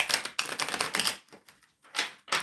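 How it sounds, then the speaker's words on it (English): Tarot cards are shuffled in rapid, crisp bursts of riffling and clicking, separated by short pauses, close and clear with no voices. "I'm shuffling for the collective"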